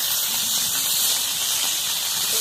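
A steady, loud hiss of hot oil as rohu fish fry in a wok, continuous and close, with no talking.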